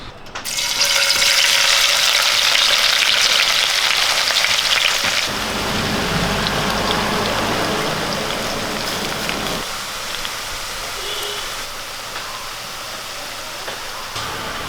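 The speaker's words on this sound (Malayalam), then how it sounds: "നമുക്കിനി ഈ സവോള ഒന്ന് വറുത്തെടുക്കാം" Sliced onions frying in hot coconut oil for chicken chukka; a loud, close, steady hissing sizzle that continues without break, easing slightly partway through with some stirring.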